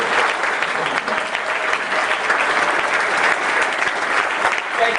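Warm audience applause honoring veteran Greg Wilson at a veterans event, a steady dense wash of many hands clapping that holds evenly for about five seconds.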